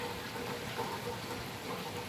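Steady, soft rain falls continuously in a gentle hiss in İnebolu, Turkey, with no voices present.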